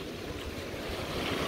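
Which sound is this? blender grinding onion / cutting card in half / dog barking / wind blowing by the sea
wind blowing by the sea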